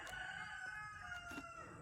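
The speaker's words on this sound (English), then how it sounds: "Thank you, Rooster." A rooster crows in one sustained, drawn-out call, distant and faint, with its harmonic tone carrying steadily throughout.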